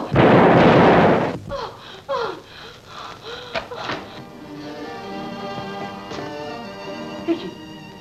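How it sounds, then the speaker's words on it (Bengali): A gunshot fired in a Bengali feature film: one loud, sharp blast with a long, rough decay at the start, followed by quieter dramatic music and scattered voices. "আমি গুলি করব, আমি গুলি করব।"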